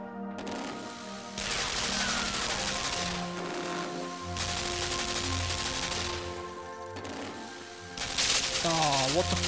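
A machine gun fires in the side-scrolling game Limbo, with bursts of rapid mechanical shots that come and go in several separate bursts. A voice is heard over the shooting.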